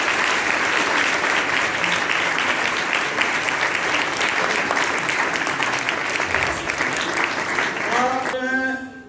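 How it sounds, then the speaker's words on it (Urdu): A full congregation applauds a priest at a Sunday thanksgiving Mass marking his 40th ordination jubilee, steady dense clapping for about eight seconds before a voice begins speaking as it fades. "تو فادر جی کے لیے بھرپور تالیاں بجائیں"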